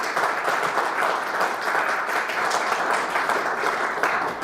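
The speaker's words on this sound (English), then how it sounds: "Let's give them a big round of applause." A crowd applauds at an annual general meeting, a dense, steady wash of clapping that stays even and sustained throughout.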